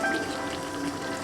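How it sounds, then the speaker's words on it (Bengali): Tea liquor poured into a pan of cooking meat for kosha mangsho makes a continuous splashing, sizzling rush, close and fairly loud, with no speech. "এবার দিয়ে দিচ্ছি চায়ের লিকার"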